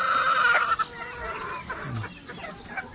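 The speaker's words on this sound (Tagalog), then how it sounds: "Yung manok natin na manok pogi." Chickens on a Filipino backyard farm, including white choco roosters kept for sale, cluck a few times over steady insect-like background hum, while someone speaks nearby.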